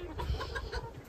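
Hens clucking in a poultry breeding pen holding silver and gold wild-type hens with a blue rooster, a steady low murmur of close clucks with no talk.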